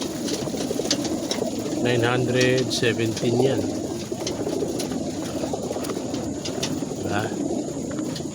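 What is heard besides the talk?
pigeons cooing in a crate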